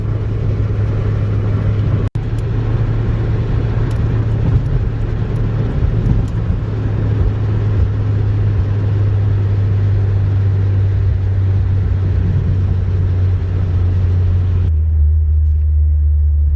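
An 8th-generation Honda Civic Si driving on the road, heard from inside as a steady low engine and road rumble with a faint rise near the end, then a lower, quieter hum after it settles.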